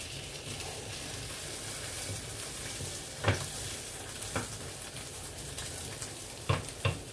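An omelette fries in a pan with a steady, moderate sizzle and crackle, broken by a few sharp clicks of a utensil against the pan.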